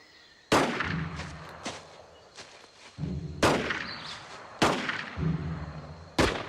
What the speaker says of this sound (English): Shooting. He's practicing.